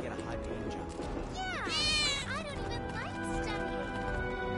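A cat meows in Final Fantasy VII, a couple of rising and falling cries heard over busy game music and background sound.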